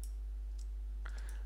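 Keyboard square bracket keys pressed, giving a few light, quick clicks close by, with a couple of faint taps early and a small cluster near the end, all set against a low steady hum.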